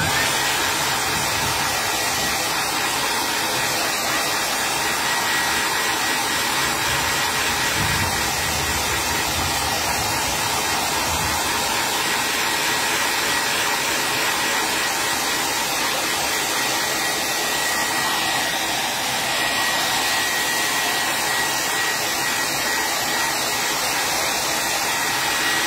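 A hair dryer blows a steady, loud, unbroken whoosh for the whole stretch while drying patriotic craft decor, with no breaks or voices.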